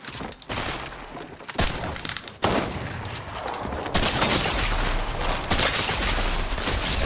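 Rapid SMG fire sprays in loud continuous bursts during a Fortnite match in an FNCS competitive session, dense crackling volleys that intensify partway through and keep going with no talk.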